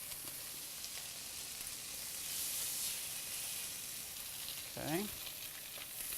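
Turkey bacon strips crisp in a pan with a continuous, close sizzle that holds steady throughout, while a voice briefly speaks near the end.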